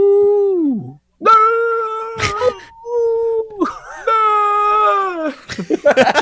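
A dog, Wolves, screams and yowls instead of barking, giving a run of high, strained, wavering cries broken by short gaps, loud and close, with people talking around the cries.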